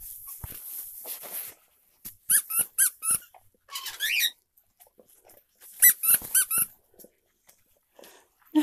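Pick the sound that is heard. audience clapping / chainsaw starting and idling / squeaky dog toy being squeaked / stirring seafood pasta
squeaky dog toy being squeaked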